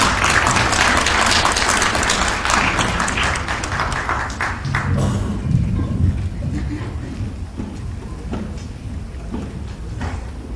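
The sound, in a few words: audience applause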